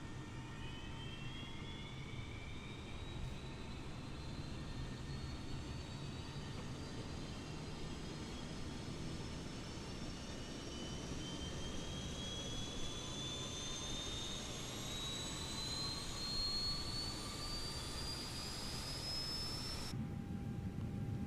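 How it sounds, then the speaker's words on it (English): The auxiliary power unit of an Airbus A320neo in Microsoft Flight Simulator starts up, a steady loud turbine whine rising gradually in pitch over a constant roar, with no talking. "let's go ahead and get the APU master on with the APU start"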